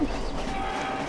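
Train in the Roblox game Jailbreak, a steady rumbling rail noise with a faint horn-like tone, heard alone.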